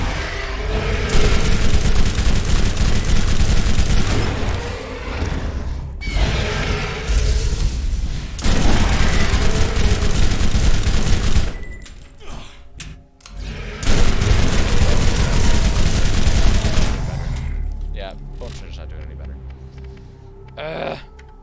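Loud, dense gunfire from the Borderlands video game, sustained bursts of shotgun and rifle fire with booms and brief gaps, heavy and close, with a voice talking over parts of it.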